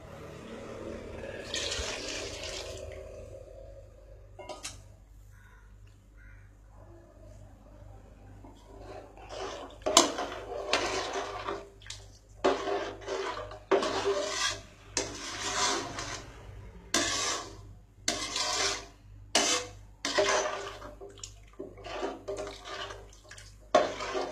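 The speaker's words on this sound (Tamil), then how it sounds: "அது இந்த மட்டன் வேக வச்ச தண்ணி, அப்புறம் இன்னும் எக்ஸ்ட்ராவாக கொஞ்சம் சூப் தண்ணி சேர்த்து ஒரு பாதி இதையும் அதில் ஊற்ற போகிறேன்" Mutton cooking water and extra soup water are poured into a pot in a home kitchen, heard as running liquid followed by a series of splashy pours and knocks, with no talking.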